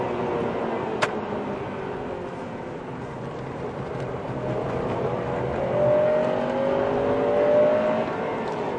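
A Honda Civic Type R's high-revving road engine, with an 8,000 rpm red line, pulls hard under acceleration, heard as a continuous rising drone with a climbing pitch toward the end and a single sharp click near the start.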